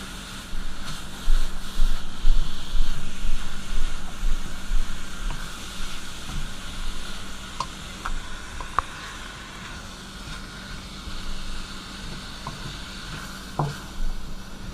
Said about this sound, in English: Right now you can smell the peppers cooking, and I'll take a break here in a second and I'll let that ground beef cook a little bit longer